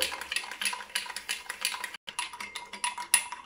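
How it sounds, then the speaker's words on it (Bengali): A spoon stirs coffee and sugar in a cup, giving quick rhythmic metallic clinks and scrapes against the sides, close and fairly loud, with a brief pause partway through. "এবার আমি ভালো করে মিশিয়ে নেব আর চিনিটা গলিয়ে নেব।"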